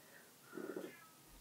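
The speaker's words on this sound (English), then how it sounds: "I'm sorry if you can hear Cat crying." A house cat cries indoors with one short, fairly faint meow in the middle of an otherwise quiet room.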